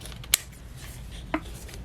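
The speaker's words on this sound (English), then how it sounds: "I don't know where my little scissors are, so I'm going to try and use these." Two sharp, brief scissor snips a second apart as regular scissors cut open the packaging of a sticker book at a desk, crisp and close in a quiet room.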